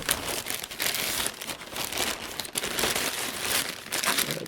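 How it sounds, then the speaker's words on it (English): Plastic packaging for a tablet mount being torn open and crumpled, a continuous close, loud crinkling and rustling with bursts of tearing, no voices. "So I'm going to tear this open and we'll see what this mount is like."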